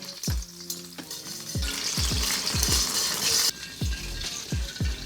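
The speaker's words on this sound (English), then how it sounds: "Now we're going to throw in our green onions. We'll let those fry a little bit." Green onions frying in oil in a wok for jjajangmyeon, a steady sizzle broken by repeated low knocks and scrapes of a utensil stirring against the pan, close and clear with no talking.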